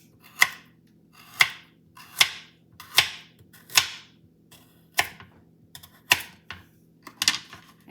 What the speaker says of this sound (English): Now our carrot, I like to cut them about that much, but you can also make small slices